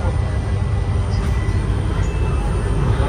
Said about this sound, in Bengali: এই যে ছেড়ে দিল ট্রেন